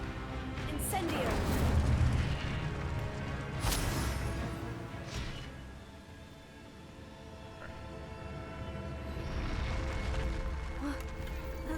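Fire spell cast in Hogwarts Legacy, heard as a sustained roaring, rumbling burst that swells, eases and swells again over several seconds, loud and full-bodied, mixed with game effects and no clear talk.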